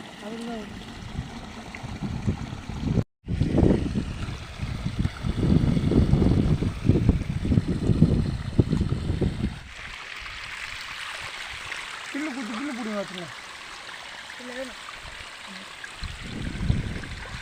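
Water runs along a small stream channel cut for fish trapping, a low gurgling rush with uneven surges, a brief dropout, then quieter trickling with faint chirping calls near the end.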